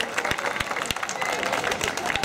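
Audience applause at a university student pro-wrestling show during a festival, scattered clapping with a few sharp distinct claps over crowd noise and a voice talking throughout.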